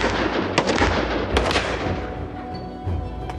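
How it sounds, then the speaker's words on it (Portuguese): Several sharp gunshot bangs ring out at irregular intervals during firearms training drills, over a noisy rumbling background, loud and fairly close. "Dois disparos!"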